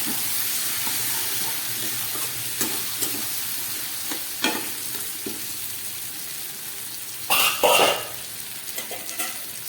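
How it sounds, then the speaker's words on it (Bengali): Spices with Kashmiri chilli powder fry and sizzle in a pot for mutton kosha, a soft steady hiss broken by stirring clinks and a louder spattering burst near the end. "সব মশলাগুলো কিছুটা ভাজা হয়েছে"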